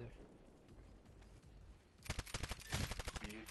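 Rapid automatic gunfire bursts in Titanfall, likely from an R101-C carbine, begin abruptly after a quiet stretch and continue as dense close-range rattling shots.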